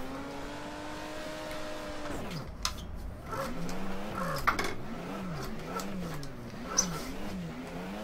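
A car drifts in the rFactor racing game with the SP Mod. Its engine revs high, drops off, then rises and falls in repeated swells as it slides through corners, with a few sharp tire squeals and bumps.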